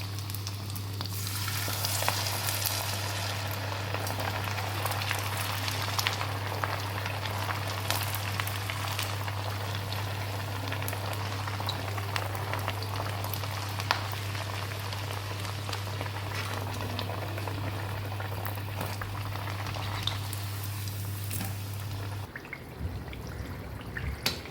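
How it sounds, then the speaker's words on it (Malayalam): Pathiri, a flat rice bread, deep-frying in hot oil, a continuous dense bubbling sizzle close by with a steady low hum beneath, lasting more than twenty seconds before the hum stops. "ഇതിലേക്ക് നമുക്ക് പത്തിരി ഓരോന്നായിട്ട് പൊരിച്ചെടുക്കാം"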